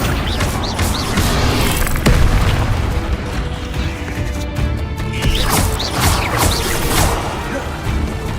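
Spell effects for Incendio and Accio cast in a wizarding video game, a dense run of booming, crashing magical bursts layered over continuous game sound and music, loud and close throughout.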